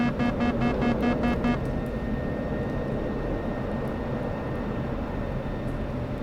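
Loud, steady aircraft engine roar from a jet in the DCS flight simulator during an aerobatic routine, with a rapid beeping warning tone over the first second and a half, then constant drone.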